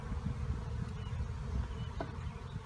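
Honeybees buzzing around an open Langstroth hive during a powdered sugar roll mite check, a continuous close low drone with a faint tick or two, no voices.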